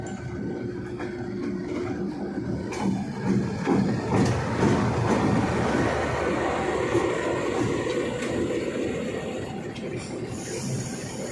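Pakistan Railways Fareed Express train rumbles past close by, a continuous heavy roar of wheels on rails with faint clanks and a rising rush midway.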